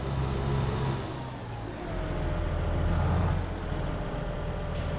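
Tractor engine idling in Farming Simulator 22, on the Land of Italy map: a steady low rumble that holds throughout at moderate level, with a slight dip and then a swell in the middle.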